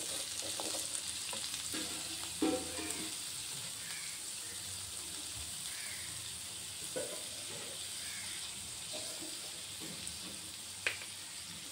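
Boiled kabuli chana being stirred through a pan while they cook for chana chaat, a soft steady sizzle with a few scraping and clacking strokes of the spoon, moderately quiet and without talk.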